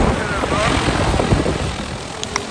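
A DJI agricultural spraying drone hums steadily nearby over a rice farm in Vietnam, its whine blending with broadband motor noise, while a voice talks over it.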